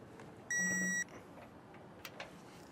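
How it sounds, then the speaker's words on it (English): A digital torque wrench gives a single sharp electronic beep of about half a second as it reaches the set torque while tightening a weight distribution hitch, then faint clicks and handling noises follow. "So I'll get this nice and tight till we hear that beep."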